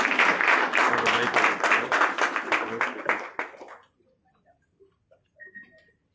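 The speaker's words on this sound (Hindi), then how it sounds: "एक जोरदार तालियों के साथ स्वागत कीजिए आदरणीय मुख्यमंत्री, यशस्वी मुख्यमंत्री डॉक्टर प्रमोद सावंत।" A burst of crowd applause at a Bihar Diwas event in Panaji, Goa, dense clapping that fades out after a few seconds, leaving near quiet with a few scattered sounds.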